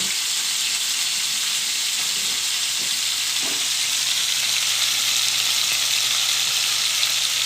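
Steak for fajitas sizzles in a hot pan, a steady, loud, unbroken frying hiss with faint clinks underneath.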